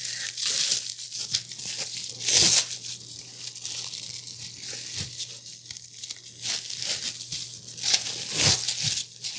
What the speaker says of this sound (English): Then we're going to unwrap our dough.